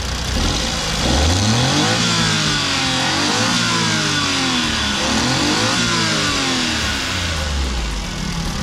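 A mini van's VVT engine revs repeatedly, rising and falling in pitch through several throttle blips from idle, close and loud with no talking.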